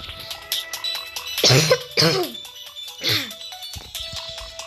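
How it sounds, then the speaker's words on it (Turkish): Three harsh, close coughs break out one after another, with game music and electronic tones playing in the background. "arkadaşlar gördüğünüz gibi hala böyle böyle öksürüyorum."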